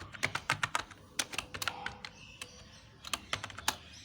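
Quick, uneven keystrokes on a computer keyboard while C++ code is being typed, close and crisp, with short pauses between bursts of tapping and no voices.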